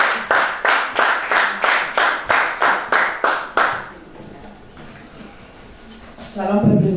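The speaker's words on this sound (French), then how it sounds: "Et nous applaudissons." A church congregation claps in unison, about a dozen loud, evenly spaced sharp claps at a brisk beat that then stop, leaving a quiet room before a voice begins speaking near the end.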